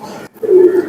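A pigeon coos once, a soft low throaty rolling call after a brief pause, close by.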